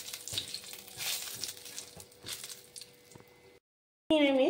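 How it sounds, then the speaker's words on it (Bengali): Whole spices such as cinnamon frying in oil in a pan for a masala bhindi, a soft crackling sizzle with stirring scrapes, then a brief silence before a louder burst of sizzling. "এগুলো একটু ভালোভাবে ভেজে নিতে হবে যতক্ষণ না এর ফোড়নের সুগন্ধ বের হয়"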